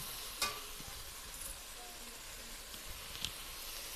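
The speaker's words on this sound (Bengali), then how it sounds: "দেখুন মশলা থেকে ভালোভাবে তেল ছাড়ছে এবার আমি পটলটা এর মধ্যে দিয়ে দেব" Pointed gourd goes into sizzling spiced oil; a quiet, even frying hiss runs throughout, marked by a few sharp clicks and taps of a spoon or pan.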